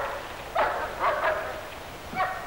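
Several dogs bark outside in the rain, three short bursts of yapping barks at moderate distance over a steady hiss of rainfall, with no talk.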